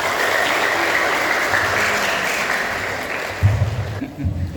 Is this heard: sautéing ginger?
no